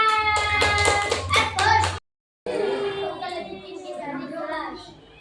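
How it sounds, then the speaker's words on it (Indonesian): A class of first-grade children claps together in a rhythmic burst of quick, sharp hand claps, then a brief silence before children's voices and an adult's speech continue in the classroom. "Tepuk tangan."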